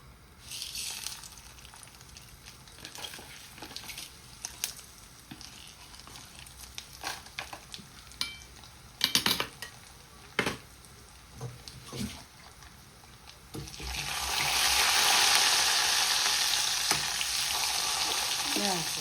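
Quiet kitchen clatter and scattered taps, then curry leaves and other ingredients drop into hot oil and a loud, steady sizzle takes over for the last few seconds, while making sambar.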